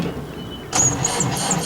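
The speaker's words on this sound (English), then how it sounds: "It's just what we need. Engine trouble." A car engine with engine trouble, sputtering and squealing in short uneven bursts after a brief quiet lead-in, close and fairly loud.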